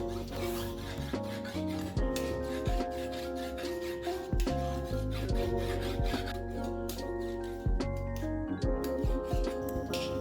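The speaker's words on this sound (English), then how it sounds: "Use it to sharpen your blade by carefully scraping across it." A knife blade is scraped repeatedly across a sharpening rod, producing rhythmic rasping strokes roughly every second or two, close and fairly quiet, with no talking.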